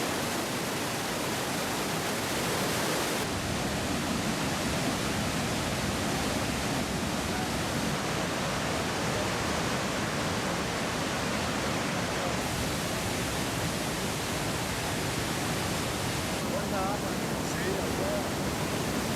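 A steady, dense roar of falling water from Iguazu Falls in Argentina fills the air, continuous and unbroken, with a faint voice buried underneath.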